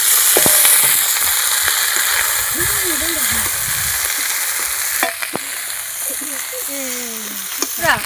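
Fried chicken pieces go into a hot pan with soy sauce and chilli sauce for restaurant-style chilli chicken. A loud, steady sizzle runs throughout, broken by sharp clinks and scrapes of a utensil.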